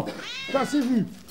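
A cat meows once, a short rising-and-falling cry heard up close, with a voice speaking briefly just before it.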